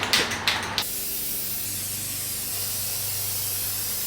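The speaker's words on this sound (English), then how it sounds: "and then I can spray paint those." Spray paint can hissing steadily onto plastic poles for a DIY Halloween project, close and continuous after a few quick rattles of the can at the start.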